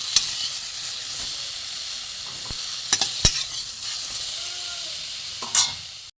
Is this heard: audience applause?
no